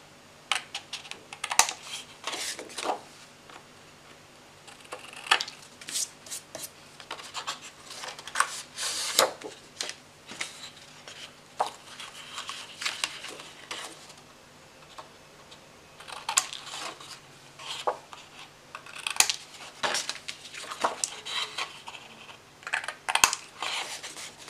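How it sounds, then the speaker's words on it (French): Scissors snipping the corners of a sheet of paper during a paper-folding craft, a series of quiet, crisp clicks and short snips spread irregularly, close by and with no talking. "Je vais couper mes coins."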